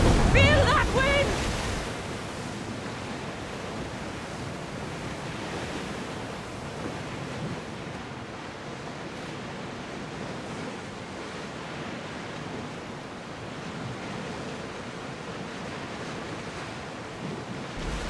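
Wind rushes and ocean waves wash past a sailing ship in Assassin's Creed Odyssey, a steady broadband roar after a short louder burst at the start, with no talk over it.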